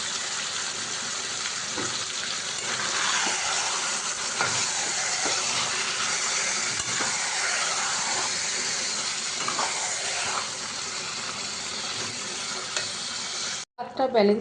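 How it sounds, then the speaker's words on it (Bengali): Marinated coriander chicken pieces sautéed in a wok, giving a steady loud sizzle and hiss with scraping stirring strokes throughout, alone without talk until an abrupt cut near the end. "এবার মাংসগুলো আমি কড়াইতে দিয়ে ভালো করে কষে নেবো"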